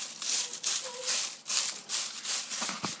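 Dry, crisp rattling and rustling of baked kale chips shaken together in a container, steady and close, with brief louder shakes throughout.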